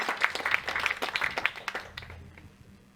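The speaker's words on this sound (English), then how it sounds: "So let's all have a round of applause for Illeana." A small library audience gives a brief round of clapping, a quick run of individual claps that thins out and fades to quiet within a couple of seconds.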